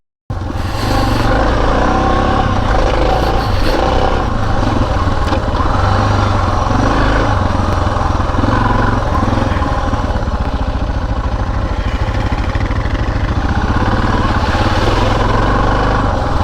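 A Suzuki DR650 dual-sport motorcycle engine thumps steadily while being ridden, loud and close with constant wind rush over the whole ride and no speech.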